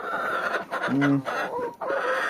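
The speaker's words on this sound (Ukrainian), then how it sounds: "І ось там ще одна, друзі, шайка наших курей." Hens clucking in a short burst amid a busy farmyard background in freezing winter, with a low bird call partway through.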